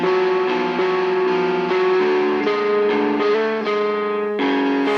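Two layered distorted bass guitars playing an octave-imitation line together, a gritty sustained run of changing notes, loud and continuous with no voices.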